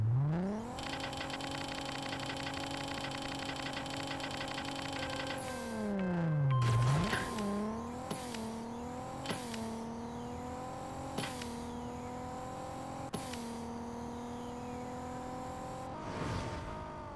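Honda Civic Type R in the mobile drag-racing game Racing Rivals, a tuned engine whining as it climbs steadily, then a series of sharp gear shifts, each dropping the pitch before it rises again, loud and continuous with no talk.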